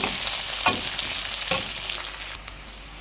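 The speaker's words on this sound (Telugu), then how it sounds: "ఆయిల్ కాగిన వెంటనే ఇలా ఆవాలు జీలకర్ర వేసేసి ఆనియన్స్ అయితే వేసేద్దాం" Onions frying in hot oil with mustard seeds and cumin give off a steady, dense sizzle, with a few louder crackles and pops breaking through. No voices are heard.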